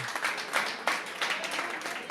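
An audience claps for Nelly at a charity foundation event supporting children, with steady, dense applause throughout.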